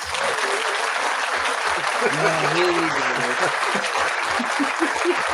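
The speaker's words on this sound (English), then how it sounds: "I'm gonna give myself a round of applause." Steady, full applause from a crowd, with people talking and calling out over the clapping throughout.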